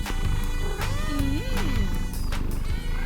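Cartoon cats making noise in an animated Simpsons scene: gliding, yowling cat-like cries over busy music and effects, loud and continuous.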